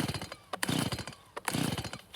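Pull-starting a Stihl MS-170 chainsaw on full choke, with two sharp recoil-cord rips each followed by a brief sputtering engine cough, close by.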